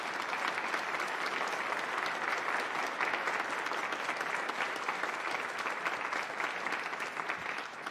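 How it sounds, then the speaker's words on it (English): A large crowd claps steadily and warmly at a student string orchestra concert, sustained applause filling the room for several seconds. "Can we please have a round of applause for all these students today and all their hard work?"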